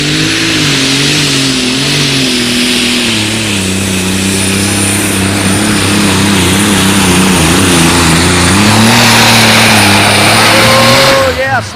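An unlimited super stock pulling tractor burning methanol roars loudly and continuously at close range, its engine note wavering and climbing through the pull with a dense, harsh mechanical howl.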